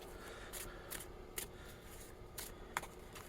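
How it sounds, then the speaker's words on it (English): Quick riffling snaps of a deck of gamble cards for a baseball card game being shuffled, several short crisp bursts close by in a quiet room. "Let's give the gamble cards a quick shuffle."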